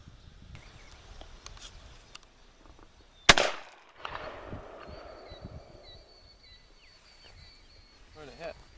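A single loud, sharp shot from a Model 87 lever-action shotgun fired outdoors, a sudden crack that fades quickly into quiet surroundings with faint background noise before and after.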